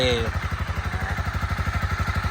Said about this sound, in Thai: ให้น้องวอร์มเครื่องไปในตัวนะครับ